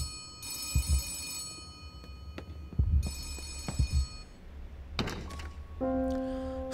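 An old desk telephone rings in a 1945 wartime office in Gerda: A Flame in Winter, two long buzzing rings separated by a pause, interspersed with heavy thunks and a brief whoosh, with no talking.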